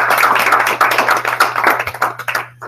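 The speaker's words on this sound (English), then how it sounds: "please give a big round of applause to Chris here" Small class audience clapping for a speaker at a Python programming session, a few close individual claps that thin out and fade within seconds, with a low steady hum underneath.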